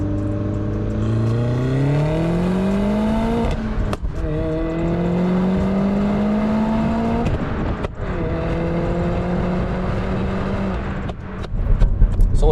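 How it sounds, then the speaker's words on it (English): A turbocharged Mini Paceman engine with all-wheel drive revs repeatedly, pitch climbing and dropping in steady sweeps, with sharp exhaust popping bursts between revs and a louder crackle at the end. "the pops sound like they're happening inside the vehicle right now"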